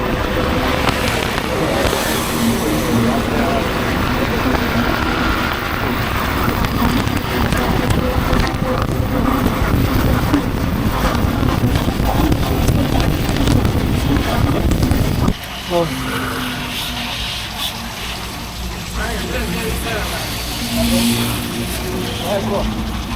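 Honda PCX scooter accelerating near the sea, its engine drone and wind rush loud and steady before dropping off abruptly partway through, with a voice talking over it.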